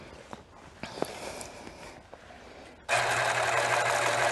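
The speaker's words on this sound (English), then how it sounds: "we'll just serge now right down these sides" A serger runs an overlock stitch down the sides of a pleated, smocked piece, starting abruptly after a few soft handling clicks and then holding a loud, steady, rapid whir close by.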